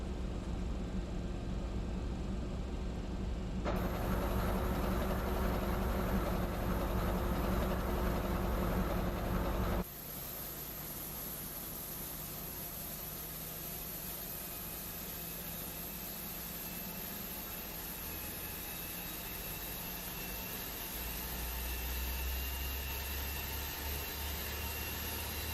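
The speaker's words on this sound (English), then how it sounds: "Engine 1 is fired up." Simulated FlightFactor 767 engine number one spooling up in X-Plane 11, a steady roar and whine that shifts abruptly partway through, then settles into a continuous turbine drone and swells again near the end, no voices.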